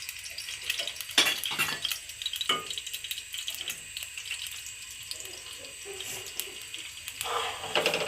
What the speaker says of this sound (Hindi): अच्छी तरह से इसको हम भून लेते हैं सूजी को